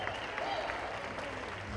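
Applause from a crowd at a concert celebrating a musician's 30-year career, a steady, fairly distant and even wash of clapping with murmuring voices mixed in.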